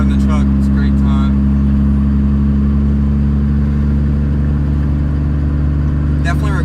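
A 700hp Cummins diesel truck driving, its engine a loud, steady, low droning hum from inside the cab, with a voice talking briefly at the start and again near the end.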